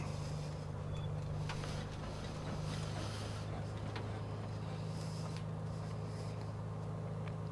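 A simulated Beechcraft Bonanza A36 piston engine runs at a steady low idle, a continuous droning hum that stays even throughout with no talk over it.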